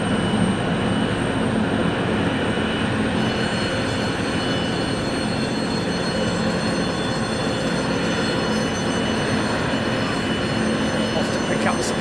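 Dreamliner jet taking off empty at Anchorage airport, a steady, loud broadband engine roar that holds throughout without letup.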